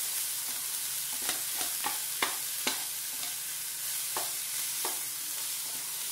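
Cauliflower mezhukkupuratti being stirred in a pan, a low steady sizzle punctuated by a series of distinct spoon knocks and scrapes at irregular intervals, close up with no talking.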